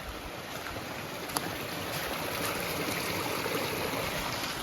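Creek water flowing along the Bucktail Path, a soft, steady rushing and burbling with no breaks, heard at low level with nothing else over it.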